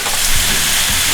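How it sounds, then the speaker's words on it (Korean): Pork shoulder, zucchini and green onion stir-fried in a wok with oil and seasoning, giving a loud, close sizzle with a couple of quick scraping stirs across a short moment. "호박, 대파와 돼지고기 앞다리살 150g을 볶다가 후추 솔솔 뿌려주고 웍웍 웍질"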